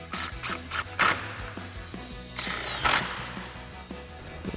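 Impact wrench driving the upper screws while mounting an LED headlight on a 2021-2023 Ford F-150, with several short close bursts of whirring and rattling, the last burst longer and louder, with tool clatter between.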